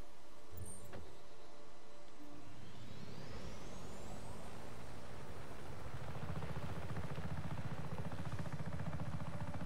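Helicopter in the video game Just Cause 3 spooling up, a rising whine climbing over a dense, loud engine and rotor roar that builds and then holds steady, with no talk.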